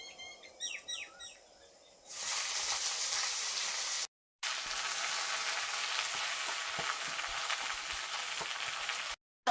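Red amaranth greens drop into a hot pan of oil with a sudden loud sizzle, then fry steadily in a continuous crackling hiss, with birds chirping nearby before the greens go in.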